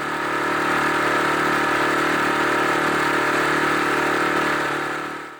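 A noisy boat outboard motor running steadily on a Scottish loch, a loud, even, droning engine hum that holds constant for several seconds before tapering slightly at the end, with no talking.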